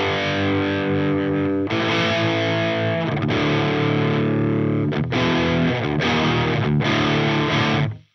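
Electric guitar chords played through a Marshall-style Prestige 1959 amp sim with all controls at 12 o'clock, a lightly overdriven low-gain tone, several strummed chords ringing out loud and close before cutting off.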